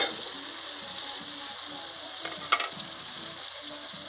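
Tomatoes and ginger-garlic paste, with a little water, fry in a pan with a steady, close hiss and sizzle, a few faint scraping clicks partway through.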